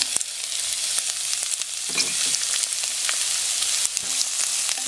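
Onion frying in a pan while cooking crab in coconut milk, giving a steady close sizzle with soft crackles and occasional stirring scrapes, with no talking.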